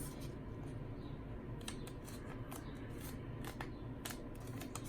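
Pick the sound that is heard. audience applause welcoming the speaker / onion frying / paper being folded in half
paper being folded in half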